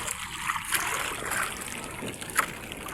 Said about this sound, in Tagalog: lalakihan ng mga alon